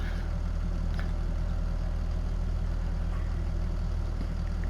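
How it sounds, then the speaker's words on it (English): A Deutz Warrior tractor engine idles in Farming Simulator 22, a steady low mechanical hum with a constant throbbing rhythm, moderately loud and unbroken, with no speech. "Very nice tractor."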